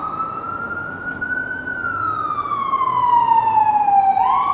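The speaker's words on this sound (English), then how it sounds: "I'm going to wait for this ambulance to go by," An ambulance siren wails, sweeping slowly up and down over steady traffic rumble, growing louder as it passes close by.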